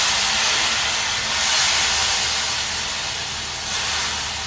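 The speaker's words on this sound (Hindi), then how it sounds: "ऑयल उधर हमारा शू शड़फ करके गर्म हो रहा है" Oil heating in a cooking pan before chicken is added, giving a steady loud hissing sizzle that swells and fades slightly, with no voices over it.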